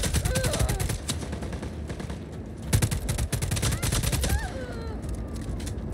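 Rapid gunfire bursts in the action game Just Cause 4 on Xbox Series S, dense overlapping shots with explosions, loud and continuous throughout.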